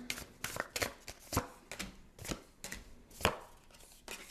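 Tarot cards shuffled and drawn by hand at close range, a quick series of crisp riffling bursts and soft flicks in an irregular rhythm, with no talking.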